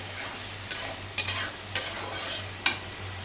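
Spice paste with green chillies is stir-fried for fish curry, a soft steady sizzle broken by a few sharp spatula scrapes against the pan, quiet and close.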